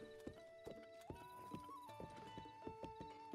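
A horse in The Legend of Zelda: Breath of the Wild trots with sharp, regular hoof clip-clops at close range, with a whinny partway through.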